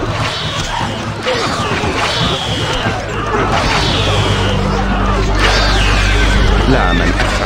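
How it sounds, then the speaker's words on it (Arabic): In the Stronghold Crusader video game, horses whinny in repeated loud, rising neighs over a dense patter of galloping hooves and battle clatter, with voiced unit lines spoken throughout. "الفرس تعدو."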